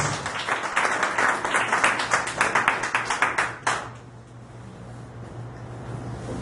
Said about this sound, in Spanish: Tú puedes darle un aplauso al Señor en esta mañana